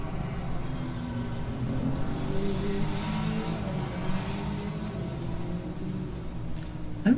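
Engine of an AMG race car in Assetto Corsa EVO, a racing video game, droning and revving steadily with low tones, rising toward the end into a sharp downshift burst; no talk.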